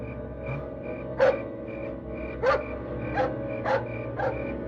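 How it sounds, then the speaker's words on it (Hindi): Dogs barking at night in an outdoor setting, several sharp barks at irregular intervals over a steady background drone, mid-distance and fairly loud. "कुत्तों के भौंकने की आवाज"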